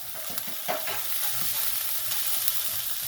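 Green chillies frying in oil in a pan, with a steady hiss of sizzling and occasional soft scrapes of stirring, close and fairly loud, with no voices.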